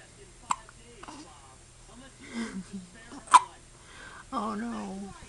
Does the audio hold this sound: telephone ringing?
no